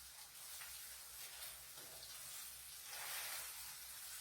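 Faint, steady sizzling and hissing of liver browning in a frying pan, a soft, even crackle with no voices.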